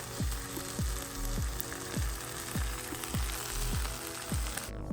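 Cheese-filled rolls warming in a pan, sizzling softly with crackling pops and a repeating rhythmic thump beneath, no voices.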